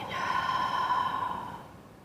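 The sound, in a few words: deep breath in through the nose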